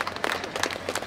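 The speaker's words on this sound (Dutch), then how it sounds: "Heeft u maar een applaus." A short burst of applause follows the announcement of the first-class winners of a Supersport motorcycle race at an award ceremony. Scattered hand claps come from a small crowd at moderate distance, uneven and brief.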